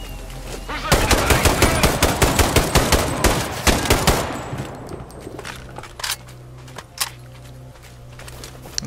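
Gunfire from the video game Sniper: Ghost Warrior 3 erupts in dense, loud automatic bursts for several seconds, then thins to scattered, fainter shots and clatter.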